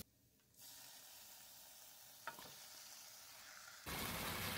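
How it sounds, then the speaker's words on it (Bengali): Marinated chicken pieces frying together on a low flame for a coconut chicken curry, with a soft steady sizzle that rises in level partway through and grows louder near the end, with a brief clink in between. "সব একসাথে লো ফ্লেমে ফ্রাই করে নিচ্ছি।"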